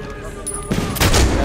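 Gunfire in the video game Medal of Honor Warfighter: a loud burst of rapid shots with dense rumbling fire swelling toward the end, close and continuous, with no talking over it.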